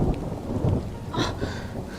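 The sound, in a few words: rain and thunderstorm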